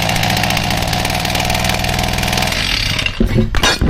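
Small engine, thought to be flooded, starting with no choke at full throttle and running at a loud, close, steady high-revving drone, then cutting out abruptly near the end with a few clatters.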